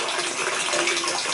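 Water gushes steadily from a bathtub faucet with a worn lever and plate under repair. The rushing flow is close and continuous, with no voices.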